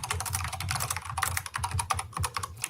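Rapid keyboard typing on a computer, a steady patter of close, crisp key clicks running without pause and with no voices.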